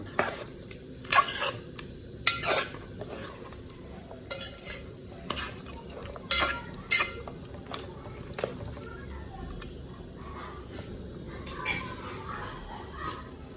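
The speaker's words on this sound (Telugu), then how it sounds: "మళ్ళీ ఒకసారి తిప్పాలి మొత్తం" Pork curry stirred in a pot, a spoon scraping and clinking against the metal in irregular bursts, close and fairly crisp over a quiet background.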